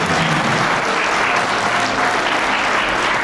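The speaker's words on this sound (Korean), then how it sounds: "네, 큰 박수 부탁드립니다." Applause from wedding guests at a ceremony in a wedding hall, a dense, steady wash of many hands clapping at once, loud and close throughout with no break.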